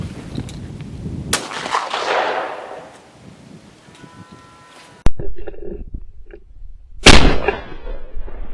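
Two sharp shotgun blasts from an over-and-under multi-choke Lanber firing 32 gram number 6 loads ring out outdoors, each a loud crack with a decaying tail, separated by quieter background between shots.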